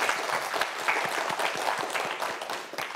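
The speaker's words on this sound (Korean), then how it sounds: "우리 두 학생을 위해서도 응원의 박수 한번 부탁드립니다" Audience applause for two student contestants on a televised science quiz show, a steady dense wash of many hands clapping at moderate level throughout, with no voices over it.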